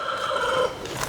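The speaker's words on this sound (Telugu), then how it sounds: "ఇప్పుడు ఈ కోడిపుంజు ఉందండి." A fighting rooster kept for Sankranti contests gives a short, loud, close call, a single harmonic squawk lasting about a second with no talk over it.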